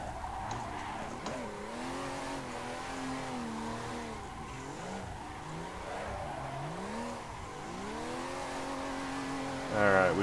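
A simulated drift car in Assetto Corsa circles the Tomodachi Kartland track, its engine pitch rising and falling continuously as it slides, with tire noise throughout and a brief louder burst near the end.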